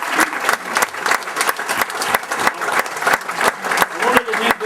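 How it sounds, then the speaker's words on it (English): Sustained applause from the audience at the 2001 Sinn Féin Ard Fheis conference, dense, steady clapping from a large crowd that continues at an even level throughout. "I think they deserve a big bowl of applause."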